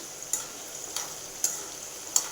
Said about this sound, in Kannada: ಈ ಥರ ಚೆನ್ನಾಗಿ ಫ್ರೈ ಆಗಬೇಕು ಇದು ಗೋಲ್ಡನ್ ಬ್ರೌನ್ ಬರಬೇಕು